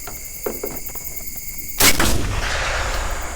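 A 6.5 Creedmoor rifle fired at a coyote during a night hunt: a single loud, booming shot breaks quiet outdoor ambience of faint clicks and hum, followed by a long rolling echo.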